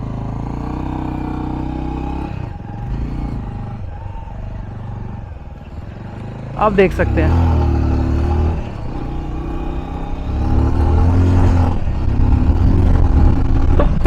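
A Bajaj Avenger 220 cruiser motorcycle engine idles with a steady low throb, then revs up sharply partway through and keeps running loud, with a brief spoken remark over it.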